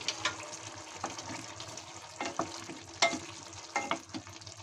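Potato curry cooks uncovered in a pan over medium-low heat with a little sugar added, giving a soft, low bubbling sizzle broken by several sharp utensil clinks and scrapes, with no talking.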